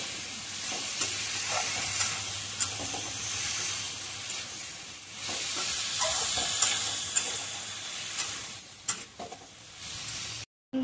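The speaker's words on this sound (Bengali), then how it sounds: "তরকাটা ঢেলে দিলাম। নাড়াচাড়া করে নেব একটু।" Ridge gourd curry sizzles and hisses steadily in a hot pan while a spoon stirs it now and then, with faint scrapes and clinks over a continuous frying hiss and no talk, ending in a brief cut to silence.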